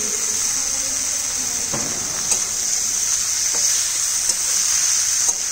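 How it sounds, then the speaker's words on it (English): Vegetables with cumin powder sautéing in a pan, a steady bright sizzle with occasional clicks of stirring, close and continuous with no talk. "Go on sauteing for another couple of minutes."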